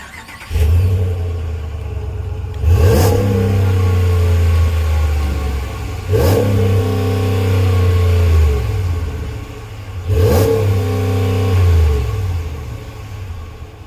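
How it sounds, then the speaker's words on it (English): A 2021 Ram 1500 Rebel pickup's exhaust revs loudly nearby in three separate throttle blips, each rising sharply and falling back to a steady rumbling idle, with no talking. "Let's go ahead and get an exhaust clip and see how this beast sounds."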